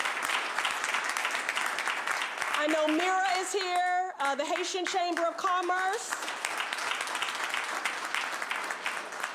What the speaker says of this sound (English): I know we can clap for them.